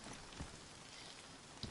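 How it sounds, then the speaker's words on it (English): Steady rainfall in the survival game DayZ, a constant broadband hiss with a couple of brief heavier drop impacts, fairly faint and with no voices. "server's raining a lot today, I guess."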